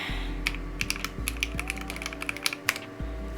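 Typing on a mechanical keyboard fitted with GMK Blue Samurai keycaps gives a quick, uneven run of crisp, clacky keystrokes, close and clear over a low steady hum, with no voices.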